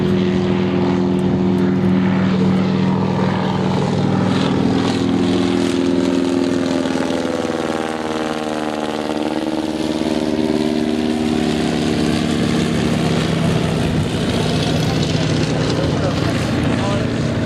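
A Junkers monoplane performing aerobatics at the Shoreham Airshow, its propeller engine droning steadily and loudly throughout with shifting pitch as it manoeuvres.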